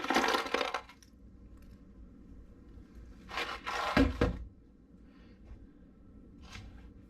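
Rocks dropping into a container, with a short clattering rattle at the start and a second louder clatter midway, then a few faint clicks in a quiet room.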